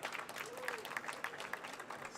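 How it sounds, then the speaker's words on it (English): Light audience applause at a jewellery stone-setting demonstration greets a volunteer, with scattered claps continuing briefly in a quiet hall. "Please, give her applause,"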